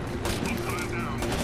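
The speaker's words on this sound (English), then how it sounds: "We're like in the middle of a firefight." Dense gunfire crackles through a firefight in the tactical shooter Rainbow Six: Vegas 2, a steady loud barrage of overlapping shots with voices mixed in underneath.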